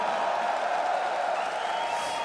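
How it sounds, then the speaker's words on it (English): At The International Dota 2 tournament, an arena crowd roars for Nigma as a dense, loud, sustained wall of cheering voices with no breaks throughout. "Crowd, cheer for Nigma."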